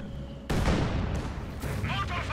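A mortar half-track fires in Company of Heroes 2, a sudden loud boom followed by a rumbling blast tail and a second impact, with a voice talking over the battle.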